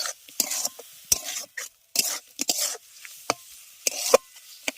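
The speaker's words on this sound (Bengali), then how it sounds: "সর্ষে বাটা দিয়ে ভালো করে আবার এগুলোকে সমস্ত কিছুকে মিশিয়ে নিয়ে একটু ভেজে নেবো হালকা করে আগে" Green tomatoes being mixed with mustard paste and lightly fried, mostly scraping strokes of a spoon against the pan in uneven bursts, with soft sizzling between them and brief quiet gaps. Nobody speaks.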